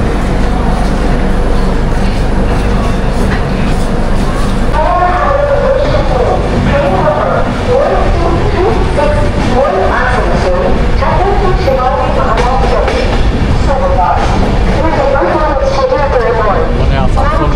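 A train pulls out of Asansol station in India, a loud, steady rumbling roar that fills the whole stretch, with passengers' voices murmuring beneath it.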